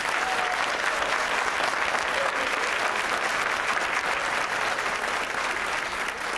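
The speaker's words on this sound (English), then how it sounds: "Please give these students a round of applause." An audience at a high school graduation ceremony breaks into sustained, dense applause, a steady wash of many hands clapping that holds for several seconds and fades slightly at the end.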